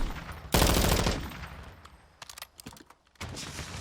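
Gunfire erupts in a Call of Duty esports match, a loud burst of rapid automatic shots followed by scattered single cracks and a final volley, with no talk over it.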